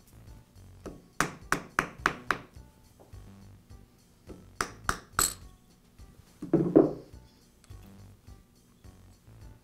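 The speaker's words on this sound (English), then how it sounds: "I'll tap the armature out of the motor plate" Tapping the armature out of a DeWALT shear's motor plate: bursts of sharp metallic taps, first a quick run of five, then three more, then a duller knock, close and distinct in a quiet workshop.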